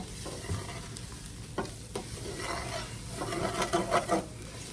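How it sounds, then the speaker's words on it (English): A spoon stirs soup with garlic in a pot, giving soft scraping and gentle sizzling with a few sharp knocks against the side, close up and fairly quiet. "Give that a good stir."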